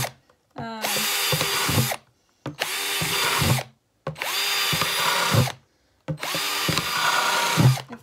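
A power drill bores drainage holes through a plastic bokashi compost bin in four loud, separate bursts of about one to one and a half seconds each, with silent gaps between them.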